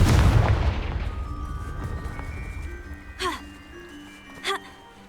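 Fire spell blasts in Hogwarts Legacy: a heavy booming burst up front that rumbles and decays, followed by two short bright magical zaps with ringing tails, with no talking.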